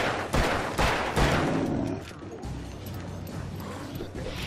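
Gunfire in the video game Alan Wake: three sharp, loud shots in quick succession, followed by mechanical clicking and rattling like a weapon being reloaded, alone without speech.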